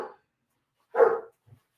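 A dog named Bruce gives a single sharp bark close by indoors, preceded by a faint trailing yip and followed by a soft low huff, with silence between.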